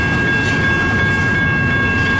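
A slow CN freight train hauling double-stack cars rumbles past at night in Richmond, Michigan, a steady loud roll of wheels on rails with a faint high whine, close by and alone.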